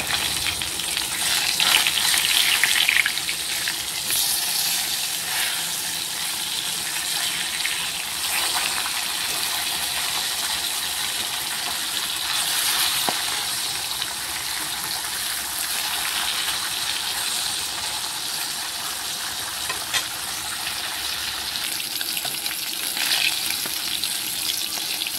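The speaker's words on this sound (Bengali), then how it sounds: "এবার হচ্ছে মাছগুলো ভেজে নেব" Fish marinated in salt and turmeric sizzles steadily in hot oil, a continuous loud frying hiss with crackling spatter that holds for the full length, slightly busier near the start.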